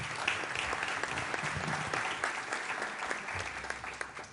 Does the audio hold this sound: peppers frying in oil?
no